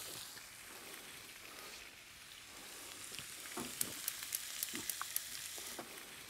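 Beignets fry in a pot of oil, a faint, steady bubbling hiss with small crackling pops that grow more frequent toward the end.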